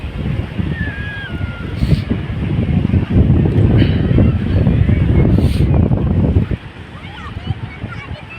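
Strong evening wind buffets the microphone at Kalamb Beach in Nalasopara, a loud continuous rumble that swells in gusts and eases near the end.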